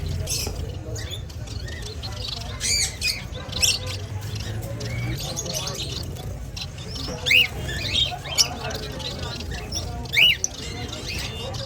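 Several pet birds, among them finches and a canary, chirp and squawk in a shop or aviary, with bright short calls popping out over a steady murmur of background noise throughout.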